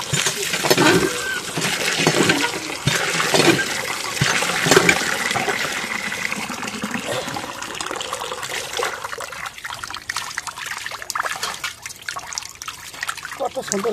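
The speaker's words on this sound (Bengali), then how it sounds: "মাছটা কাটা শেষ, মাছটা এখন ধুয়ে নেই।" Water runs steadily over freshly cut fish as it is rinsed clean, a continuous close trickle and splash that holds at a fairly even level for the whole stretch.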